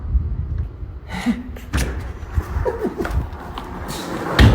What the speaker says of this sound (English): Oh, I forgot it's a push door.